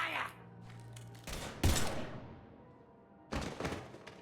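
Video game gunfire comes as a few loud, sharp bursts: one near the start, a heavy thump-and-crack volley mid-clip, and another burst near the end, over a low background hum.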